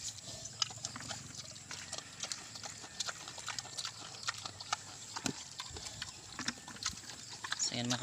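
Native pigs grunting and snuffling while eating Indian mango on muddy farm ground, low intermittent grunts and chewing noises under an outdoor ambience, with occasional clatter.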